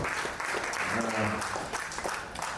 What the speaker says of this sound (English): we should definitely clap for the present committee members who have done a